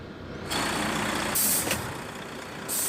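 Air hiss from the high-low range shift system on a Volvo 440 truck, heard as bursts of broadband hissing that switch on and off over steady engine noise, close and fairly loud, with no talking.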